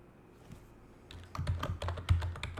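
Keys tapped on a computer keyboard while entering a password, a quiet start giving way to a close, quick run of clicks over roughly a second and a half, with no voices.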